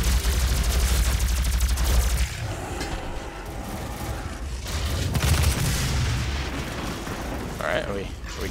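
Heavy weapon fire in Doom, loud booming blasts and explosive bursts rolling over one another, with a dense low rumble that swells and fades across several seconds.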